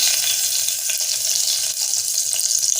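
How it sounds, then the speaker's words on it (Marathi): A cinnamon stick and two bay leaves hit hot oil in a pressure cooker, giving a loud, steady hiss of sizzling up close with no talking. "तेल गरम झाले, त्यामध्ये दालचिन्याचा तुकडा टाकूया, 2 तेजपत्त्याची पानं"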